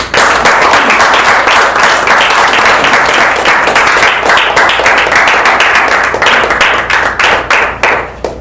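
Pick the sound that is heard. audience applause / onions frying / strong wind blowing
audience applause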